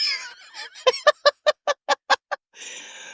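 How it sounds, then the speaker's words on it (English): A quacking duck sound effect plays as a quick run of about eight loud, evenly spaced nasal quacks, close and clear, followed by a short burst of noise. "it's a quacking duck"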